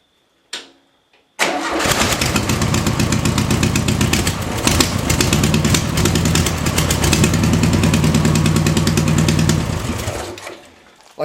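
A 1972 VW Beetle trike engine with a clogged Solex carburetor cranks, catches and runs loud and close, its rough mid-pitched drone sagging and stumbling for a moment before carrying on, then fading out.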